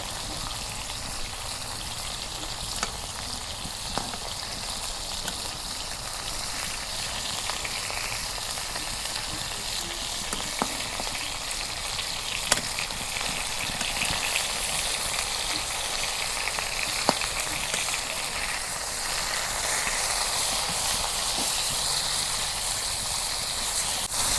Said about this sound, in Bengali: মাছগুলো আমি অনেক সুন্দর করে ভাইজা নিতেছি।